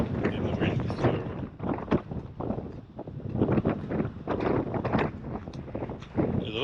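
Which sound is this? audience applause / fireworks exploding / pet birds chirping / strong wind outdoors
strong wind outdoors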